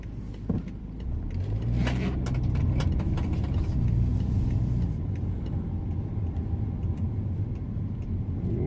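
A BMW E60 520d diesel saloon in limp mode drives along a long road stretch, its engine and tyre rumble steady and close from inside the cabin, with a few faint clicks early on.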